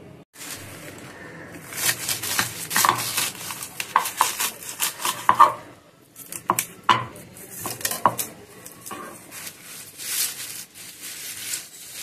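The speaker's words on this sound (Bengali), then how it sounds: "চলুন শাকটা একটু সুন্দর করে কেটে নিই।" Knife chopping fresh pea greens on a board in a home kitchen, an uneven run of crisp taps and knocks in clusters with brief pauses, close by and moderately loud.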